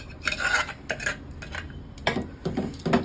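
Cooked dal for Indian-style pappu charu goes into a pan and is stirred, with a series of scraping spoon-on-metal strokes and clinks coming in uneven bursts, close and fairly loud, no voices.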